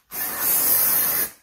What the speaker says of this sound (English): When I'm spraying this on my hair, it means that my hair needs washing.